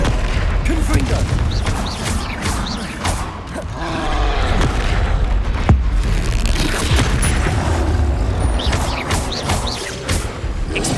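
Confringo blasting-spell explosions in Hogwarts Legacy boom repeatedly amid continuous combat noise, loud and close, with a voice calling out over the din.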